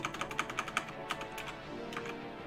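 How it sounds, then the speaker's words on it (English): Rapid keystrokes on a computer keyboard, a quick burst of close, crisp clicks followed by a few scattered taps under a low room hum. "Come on, keyboard, work with me here."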